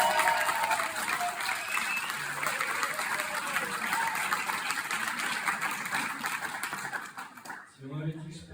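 A stand-up comedy audience applauds loudly and steadily in a dense, continuous wash of clapping that fades out near the end, when a voice begins speaking.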